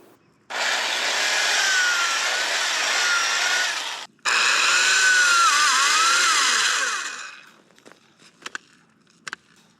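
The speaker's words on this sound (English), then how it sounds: "I really love this 3-inch auger thing that fits in my electric drill." A power drill with a 3-inch auger bit whirs loudly in two long bursts separated by a short pause, grinding steadily into garden soil, then stops, followed by a few faint clicks.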